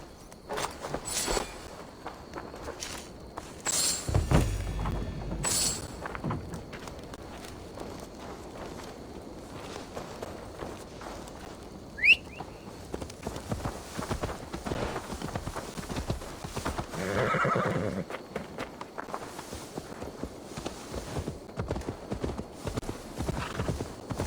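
Horse hooves clip-clopping steadily in Assassin's Creed Valhalla, a walking rhythm that runs throughout, with a brief horse whinny partway through and faint background game ambience.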